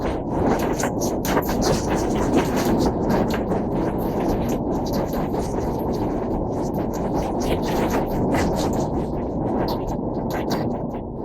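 A train runs past near the Paksey railway bridge by Pakshi station, a loud, close, continuous rumble and roar that fills the whole stretch without a break, with some wind buffeting the microphone.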